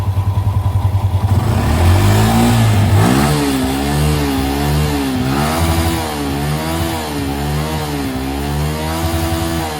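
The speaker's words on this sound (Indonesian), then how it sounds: "suara dari knalpotnya masih aman nih ya guys" A motorcycle engine, a VIX with a worn piston ring that makes the exhaust smoke, idles with a fast putter and then revs up and down repeatedly through its exhaust, loud and close.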